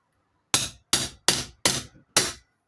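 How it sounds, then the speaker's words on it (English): A hammer strikes the back of a big knife to break through a whole chicken's bone: five sharp, evenly spaced knocks at close range, each ringing out briefly in a quiet kitchen. "Why I like breaking the bone with the hammer"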